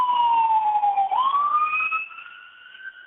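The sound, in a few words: ambulance siren passing by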